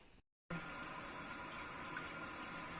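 Tap water gushes into a salon hair-washing sink, starting abruptly after a short silence and then running as a steady, close, even rush with no voices.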